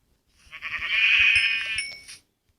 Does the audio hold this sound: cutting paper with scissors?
no